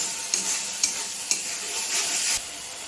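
Fried egg and potatoes stirred gently in a pan, with a continuous sizzle broken by three light, evenly spaced scrapes of the spatula, close and alone.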